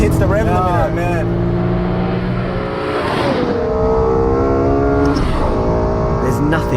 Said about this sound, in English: There's nothing like the sound of a naturally aspirated V10 at full cry.